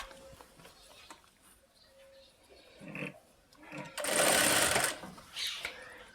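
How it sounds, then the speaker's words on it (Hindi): Sewing machine stitching a half-inch double-folded hem on an umbrella-cut lehenga, a loud sustained run in the middle with shorter bursts around it, over a quiet room. "तो मैं इसकी सिलाई कर रही हूँ।"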